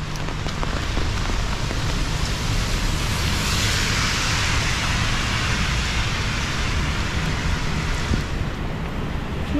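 Steady rain falls on a surface while people head out shopping at a mall, a continuous hiss of drops close by for the whole stretch with no talk.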